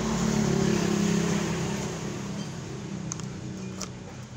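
A washing machine wash motor powered up but failing to turn gives a steady, loud low hum with a constant tone throughout, easing slightly in level toward the end, with no speech.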